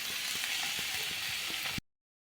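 Garlic and masala sizzle in a pan for a prawn dish, a steady close frying hiss with soft stirring taps, then a sudden cut to silence.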